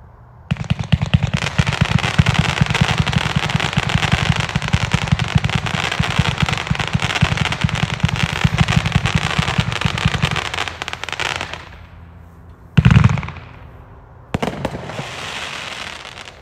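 A loud fireworks barrage with many mines and a finale: rapid crackling bursts and booms pour out continuously for about eleven seconds, then fade, followed by a sharp thump and another burst.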